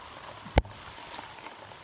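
Rain falling outdoors, a steady soft hiss of drops on surfaces with a single sharp tap partway through, no voices present.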